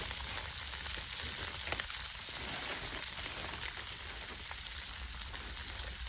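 Breakfast fries in a hot cast iron skillet outdoors in the woods, giving a dense, steady sizzle and crackle that stays loud and even throughout with no talking.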